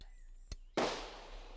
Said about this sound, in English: Third shot.